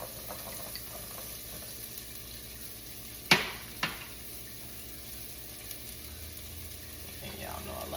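Onions hit a hot pot for potato soup, giving a soft steady sizzle under low kitchen background, with two brief louder clatters near the middle.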